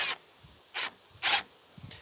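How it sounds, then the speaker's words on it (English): Clamp on a roof rack for a Ford Festiva being tightened, producing three short rubbing, rasping bursts of a second or less each at steady intervals, close and fairly quiet, with a fainter fourth scrape at the end. "Go ahead and tighten that up."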